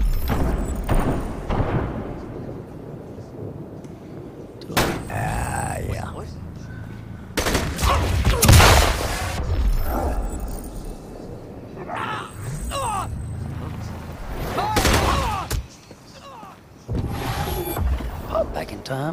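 Gunfire in the video game Gemini Heroes Reborn, bursts of shots and thumps arriving in clusters between quieter gaps, with a voice shouting over parts of the action.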